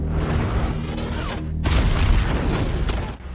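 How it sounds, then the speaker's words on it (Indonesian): A deep, rumbling blast from the film Guns Akimbo swells and fills the scene, with a brief dip and then a sustained roar as the explosion carries on. "Dan kemudian ia pun meledak dan membunuh para penjahat tersebut."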